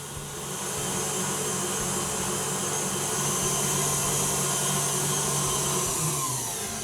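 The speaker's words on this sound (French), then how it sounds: "J'arrête donc le batteur." An electric stand mixer whips Italian meringue until it cools, holding a steady, loud whirring motor drone with a faint high whine throughout, no speech over it.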